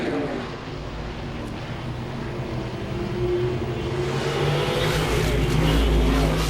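Modified race cars racing at Langley Speedway, a continuous roar of engines that swells louder toward the end, with a commentator's voice running over the top.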